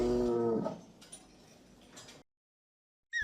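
A cartoon cow gives one long, low moo at the start, then faint scattered ticking follows before a brief silence and a short sound at the very end.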